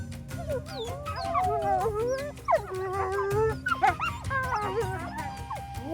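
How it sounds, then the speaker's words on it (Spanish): Wild wolves in Alaska howl in long, sliding, overlapping calls, several voices rising and falling together, fairly close and clear, with short yips and whimpers mixed in and no talking. "El aullido, que resuena a kilómetros, es más que una llamada,"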